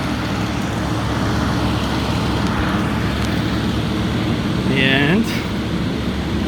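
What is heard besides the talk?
noisy city street with construction work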